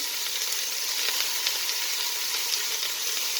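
Meat for Turkish tas kebab searing and being turned in a heavy pan over high heat, a loud, close, continuous sizzle and hiss with faint stirring scrapes and no voices.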